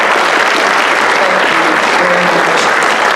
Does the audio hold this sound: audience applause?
yes